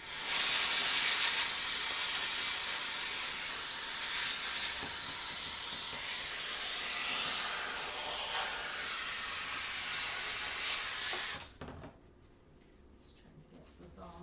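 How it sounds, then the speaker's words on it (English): A loud, steady steam hiss runs continuously for about eleven seconds, then cuts off abruptly, leaving near silence with a few faint clicks. "you can actually just steam milk for hot chocolate too"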